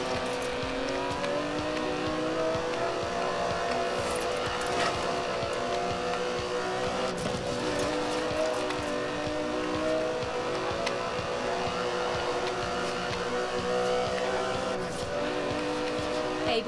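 A sports car engine driven in the racing game Forza Horizon 4 drones steadily and continuously with a rich, layered tone, holding fairly even power throughout without sharp revs.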